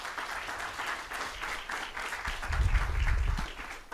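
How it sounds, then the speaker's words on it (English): An audience at a civil dialogue forum on immigration breaks into steady applause, many hands clapping at an even level, with a low rumble swelling briefly beneath it toward the end. "How about a round of applause for Jean?"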